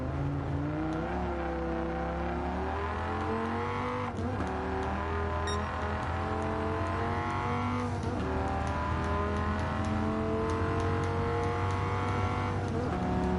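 A Dodge Viper race car engine in Gran Turismo 7 holds a loud, steady drone with rising and falling harmonics. Revs climb through several gear changes over about thirteen seconds, with no talking.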